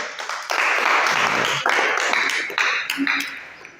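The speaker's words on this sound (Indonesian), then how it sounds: "Beri aplaus untuk kelompok 1" An audience applauds a presenting group in a classroom, a brief burst of close clapping that rises, holds for a few seconds, then tapers off amid some voices.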